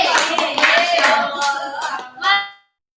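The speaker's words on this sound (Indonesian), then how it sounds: "Tepuk tangan dong." An audience in an Indonesian school staff meeting gives a short burst of scattered hand clapping, fairly close, with a few voices over it, fading out after about two and a half seconds.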